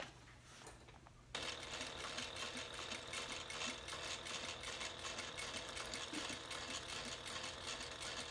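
A sewing machine top-stitches the bottom band of a handbag. A quiet pause gives way to a steady, continuous whirr of rapid stitching that runs evenly to the end.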